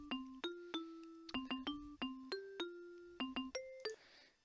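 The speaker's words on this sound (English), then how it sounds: "Birthday bells." A birthday bells sound effect from the Scratch library plays a clean, bright sequence of chiming bell tones that step through a short cheerful melody, heard alone and fairly quiet.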